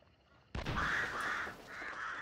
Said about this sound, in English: he scared those birds at least